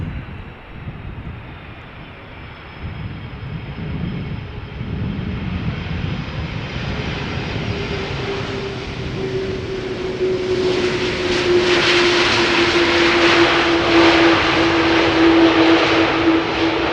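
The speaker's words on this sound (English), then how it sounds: "Turkish flight 1951 arriving from Istanbul." Turkish Airlines Boeing 737 arriving at Schiphol Airport from Istanbul, a steady jet roar that swells louder as the aircraft approaches, with a rising whine building over the final seconds and no talk.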